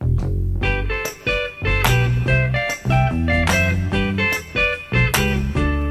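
A full band plays with guitar lines moving in harmonized sixths over bass and drums, loud and continuous.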